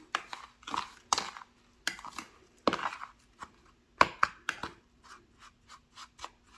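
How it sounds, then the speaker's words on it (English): Dry brown sugar and apple pie spice stirred together in a bowl, giving a series of gritty scraping and tapping strokes in an uneven rhythm, close and moderately loud, with no talking. "let me go ahead and stir that around"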